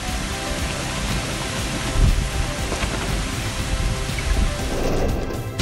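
Heavy monsoon rain pours steadily over flooded south Mumbai streets, a dense continuous hiss with low rumbles and occasional louder surges, with no one talking.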